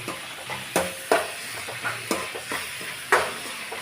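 Ginger-garlic paste frying in a pan for egg roast, with a spoon stirring it in sharp scraping strokes roughly every half second over a steady close sizzle. Nobody speaks.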